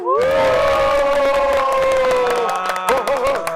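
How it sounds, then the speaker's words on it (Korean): A crowd cheers, shouts and claps loudly to welcome people at a festive Korean market broadcast, steady and dense for a few seconds before breaking into scattered whoops. "큰 박수로 환영해 주세요"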